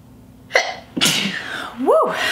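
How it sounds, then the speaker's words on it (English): A single close, loud human sneeze indoors during a chatty makeup session, sharp and explosive with a short inhaled lead-in, followed by a brief sliding vocal exclamation. "I feel like I'm about to sneeze"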